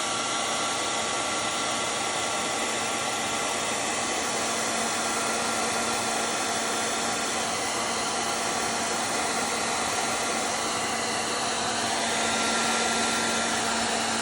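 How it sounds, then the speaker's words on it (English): A heat gun warms a new temperature probe during a Primo water cooler repair, giving a steady, loud, even blowing hiss that runs unbroken from start to finish. "Take my heat gun."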